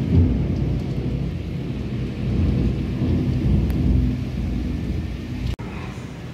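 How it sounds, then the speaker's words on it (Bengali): Violent thunderstorm with heavy rain, a loud continuous roar of rain and rumbling thunder, with a sharp crack near the end. "ঝড় হচ্ছে মারাত্মক লেভেলে, দেখো ঝড় বোঝাচ্ছে কিভাবে, বৃষ্টি দেখলে বোঝা যাচ্ছে।"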